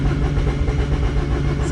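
An old race car engine cranks and sputters while trying to start, a loud, close, dense mechanical churn with rapid uneven pulsing that continues throughout without catching into a clean idle.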